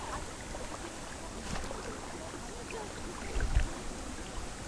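Fast-flowing river rapids rush in a steady broadband roar on a fishing outing, with wind buffeting and a couple of low thumps near the end, no voices over it.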